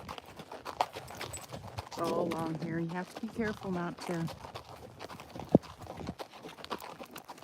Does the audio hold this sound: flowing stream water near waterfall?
no